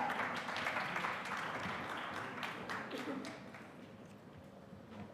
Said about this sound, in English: A huge round of cheer for all our presenters here.